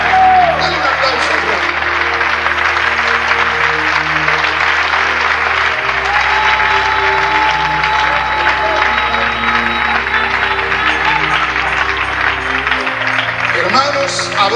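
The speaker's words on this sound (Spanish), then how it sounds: "Dale un aplauso." A church congregation applauds steadily and loudly throughout, with dense clapping mixed with cheering and a sustained organ or keyboard chord underneath.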